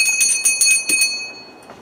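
A bright bell rings in several quick, clear strikes with a sustained metallic tone, close and loud, then fades into a soft decay.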